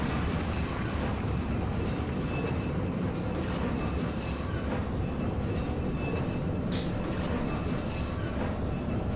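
Train ride in Resident Evil 4 VR, a continuous loud rumble of rail cars with steady clatter and a brief high squeal near the end, no talking.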